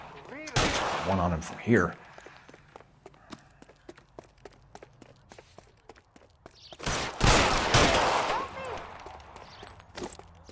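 Gunfire in the video game L.A. Noire rings out as scattered sharp shots and a couple of louder bursts, with footsteps and a brief spoken line in between.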